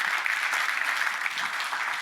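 Conference talk audience applauding, a short, even burst of many hands clapping at moderate distance, steady throughout with no speech on top.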